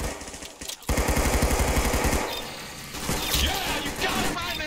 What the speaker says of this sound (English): It's a Tommy gun. It fires 45 ACP.